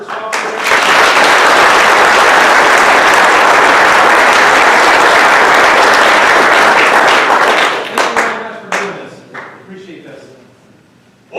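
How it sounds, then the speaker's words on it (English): A crowd at a mountain man rendezvous gathering breaks into loud, sustained applause for several seconds, then it thins into scattered claps and a few voices before fading. "can we get a round of applause for straw beer?"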